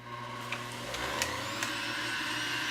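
A Breville JE98XL juicer motor runs on its low speed setting, a steady whirring hum with a few faint clicks near the start.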